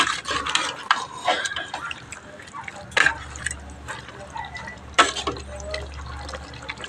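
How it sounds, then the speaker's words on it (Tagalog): Carrots for afritada are sautéed in a pan, with wet sizzling and stirring scrapes rising in several louder bursts, close and fairly loud under faint background noise. "Igisa mo ng carrots."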